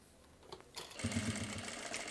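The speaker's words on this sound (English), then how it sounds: "Stitching to the edge now." A sewing machine stitches along the edge of salwar pants, starting after a quiet moment and then running as a steady, close, continuous whir for over a second.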